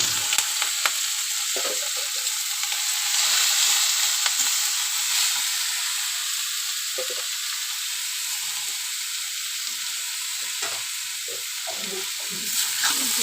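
Grated taro sizzles and fries in hot oil with chopped garlic and green chili, a steady bright hiss running throughout with occasional stirring clatter, close and continuous with no talk.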